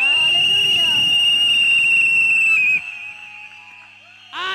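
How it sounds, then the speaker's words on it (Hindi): A loud, sustained shrill whistle blast from an audience at a church gathering cuts off abruptly, then a quieter lingering tone follows and a brief new whistle burst comes at the end. "बजा दो सीटी आज यीशु को"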